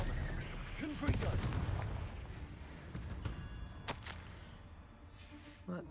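In Hogwarts Legacy, Confringo blasting spells go off as a few sharp booms over a dense, rumbling battle din. A voice is heard amid the noise.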